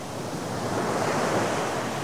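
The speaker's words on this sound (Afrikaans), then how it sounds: "Dis die see. Dis die golwe wat so maak." Sea waves break on the shore in a broad, continuous roar of surf, loud and close with some wind rush, swelling slightly through the middle, with no voices.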